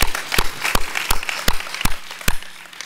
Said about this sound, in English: We should all give them a big round of applause for getting this far.